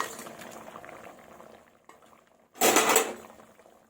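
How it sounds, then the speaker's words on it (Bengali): Fish curry broth bubbles in a pot with a soft, steady burble, then a brief louder gush of bubbling or stirring near the end before settling again. "তো ঝোলটা আমার টকবক করে ফুটে গেছে"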